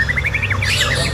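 Caged songbirds at a Jakarta bird market, where white-rumped shama (murai batu) are sold, give a quick run of clear, close, whistled chirps over steady low background noise.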